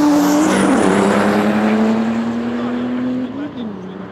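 A Mercedes S65 AMG V12 and an Audi A4 2.5 TDI accelerate from a rolling start in a drag race, a loud close engine roar with a rising then falling tone that fades as they pull away.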